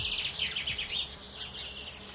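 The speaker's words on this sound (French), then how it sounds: "un calme interrompu par le seul chant d'oiseaux" Birds sing in Miombo forest, a steady run of high, thin chirps in a calm setting, moderately faint with no other sounds intruding.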